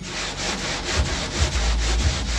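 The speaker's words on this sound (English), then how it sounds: "Otherwise you're sanding unevenly and wasting your time." Steady back-and-forth scraping of abrasive on wood, a rhythmic rasping stroke repeating about every quarter second, close and continuous.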